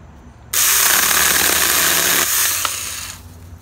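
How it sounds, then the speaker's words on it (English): A Saker mini electric chainsaw cuts through a small hanging branch in one loud, close burst of high motor whine lasting about three seconds, dipping slightly as the chain bites, then stopping. "Let's see if we can cut this branch that's hanging."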